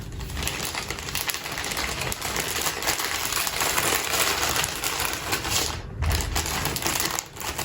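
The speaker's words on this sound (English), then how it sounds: "And then if you fold that up, it's then going to go inside the other bag." A plastic specimen bag from a COVID-19 self-swab test kit is folded and sealed up close, a steady run of crinkling and rustling plastic with brief sharper crackles and no talking.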